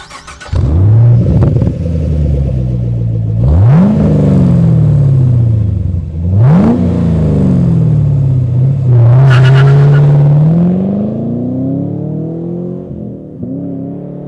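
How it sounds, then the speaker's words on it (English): A 2010 Camaro fitted with a Borla S-Type exhaust revs hard several times, each throttle blip rising to a loud, close roar before settling back to a steady rumbling idle between pulls. "Now let's hear Borla's S-Type exhaust."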